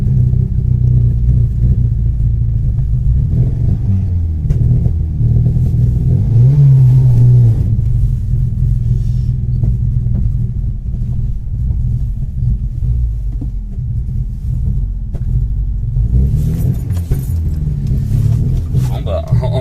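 A Ford XR3i convertible engine being revived after sitting idle roars and revs at full throttle, with a rising-and-falling rev in the middle before it eases and sputters as the throttle is released, close and loud with speech over it.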